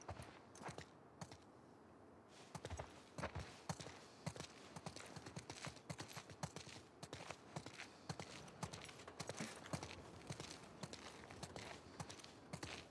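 Horses walk at a slow pace in The Last of Us Part II, their hooves clopping in a steady, fairly close rhythm with faint creaks and rustles around them.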